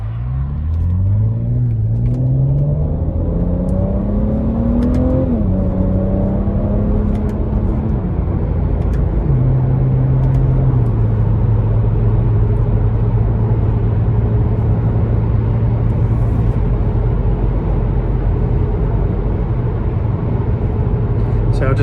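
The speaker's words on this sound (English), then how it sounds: "show how the gears change, the engine sounds, all of that" BMW 335i N54 M Sport Touring engine pulling hard on a dual carriageway, loud steady drone with rising pitch through gear changes, then holding a constant cruising note under continuous road rumble.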